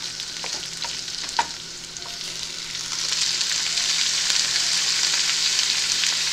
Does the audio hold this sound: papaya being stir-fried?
yes